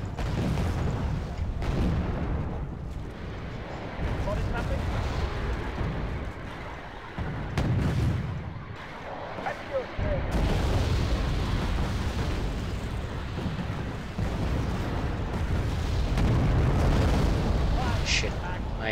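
Bomber airstrike explosions in a real-time strategy battle roll in as heavy, rumbling booms and bursts that swell and fade over the whole stretch, loud and close, with game noise and a voice talking at times.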